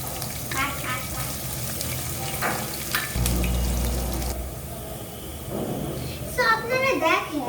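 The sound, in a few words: chopped onions added to hot oil, frying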